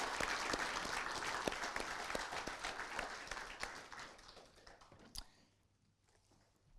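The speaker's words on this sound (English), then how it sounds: "Just a round of applause for Trust Waikato for helping us." An audience at a film awards ceremony applauds a local trust sponsor, sharp dense clapping with distinct hand claps that tapers off and fades to near quiet by the end.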